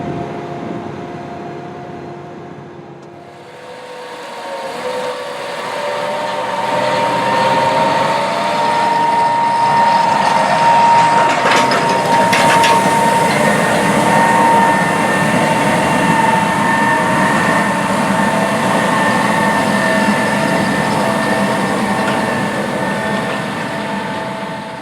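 A John Deere 8400R tractor planting corn, its engine building from a low idle into a loud, steady drone with a whining tone, rumbling continuously and close by with no voices.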